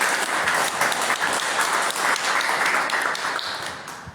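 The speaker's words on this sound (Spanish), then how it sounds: "les pido un aplauso a todos ustedes" An audience at a philosophy café gathering breaks into warm applause, a dense, sustained patter of many hands that stays strong for several seconds before tapering off.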